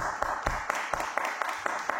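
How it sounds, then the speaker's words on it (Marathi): A church congregation claps together during a sermon, a steady burst of rhythmic hand claps about four per second, fairly close and full, with no talk over it. "टाळ्या वाजवत आपल्या ताईंसाठी."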